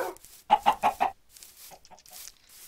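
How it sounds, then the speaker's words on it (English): Four sharp, evenly spaced chicken clucks up close in a video game, then a few fainter clucks trailing off in the background. "Chickens everywhere."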